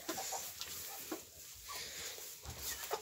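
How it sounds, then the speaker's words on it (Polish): A young Brahma rooster in a farmyard gives several soft, short clucks in an irregular rhythm, faint and close, against a low background hiss. "Tutaj kogucik Brahma."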